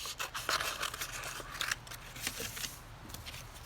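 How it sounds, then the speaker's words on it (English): Scissors snip steadily through paper, cutting out pieces for a tie-dye monster craft. Quick, close, crisp cuts repeat in an even rhythm with light rustling of paper, and no voices. "cut all these pieces out"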